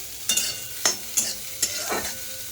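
Broccoli is stirred in a pan over low gas, four or five distinct scraping strokes, each a brief loud swish over a soft continuous sizzle, close up with no talk.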